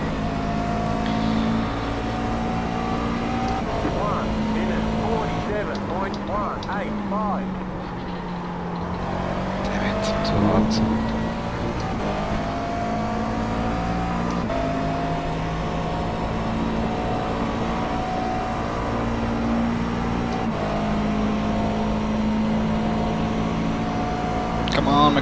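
A McLaren GT race car in iRacing's Blancpain Sprint series at Watkins Glen holds a steady engine drone with shifting pitch as it accelerates and lifts through corners, loud and continuous throughout.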